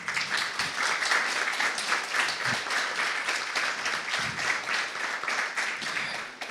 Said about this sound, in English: I think this is a well-deserved round of applause